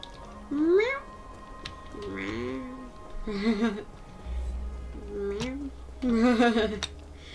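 A cartoonish cat meows several times in Honkai: Star Rail, a series of rising, bending calls mixed with game music and light sound effects, while a person talks in between.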